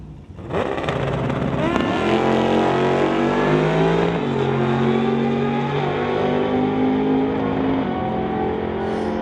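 A 1931 Ford drag car powered by a 414 small block Chevrolet engine at an outlaw street drag race launches with a sudden loud roar, then screams up through the revs in one continuous, close, very loud pass.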